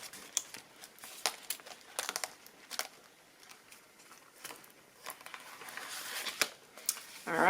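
A paper cash envelope is handled and opened close up, with scattered soft crinkles, rustles and taps in quiet bursts and no speech.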